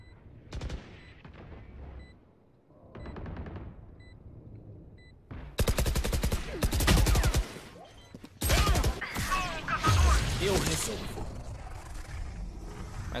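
Gunfire in the Valorant video game during a ranked match, with scattered shots early, then two loud dense bursts of rapid fire and booming impacts, while a person speaks over parts of it.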